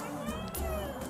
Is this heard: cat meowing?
yes